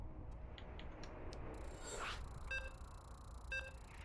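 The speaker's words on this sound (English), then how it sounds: "As you can hear the beeps, we are getting into game 2." Short electronic beeps sound as the next StarCraft II match loads, a few spaced tones over a faint background hum, quiet and alone with no talking.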